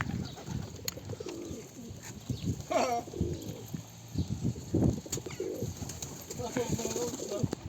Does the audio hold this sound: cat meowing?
no